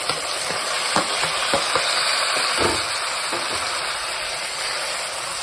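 Cucumber pieces and onions fry in a pan for a cucumber chutney, a steady close sizzle with scattered crackles and stirring scrapes throughout, no voices.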